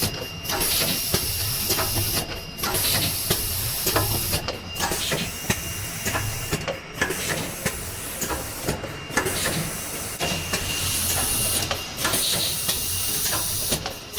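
An automatic screen printing machine running steadily while printing a third colour, giving a loud continuous mechanical hiss and whir with regular rhythmic clunks and brief dips every couple of seconds.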